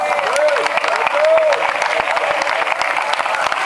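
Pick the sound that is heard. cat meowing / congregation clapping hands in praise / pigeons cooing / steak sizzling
congregation clapping hands in praise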